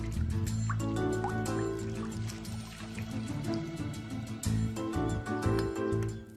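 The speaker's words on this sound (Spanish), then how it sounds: "Incluso diseñaron un reloj de agua." Water drips and trickles into a vessel, evoking an ancient Greek water clock, with continuous liquid sounds over a dense, busy background.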